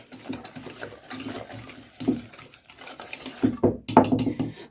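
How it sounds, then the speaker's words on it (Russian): A spoon stirs a cream mixture for a Christmas cake in a pot, making irregular scraping and clinking against the metal in uneven bursts, growing busier toward the end. "Перемешиваю эту всю нашу массу."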